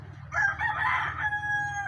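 A rooster crows once at a moderate distance, a single drawn-out call that holds steady before trailing off, heard outdoors at night near water where spearfishing is under way in the Philippines.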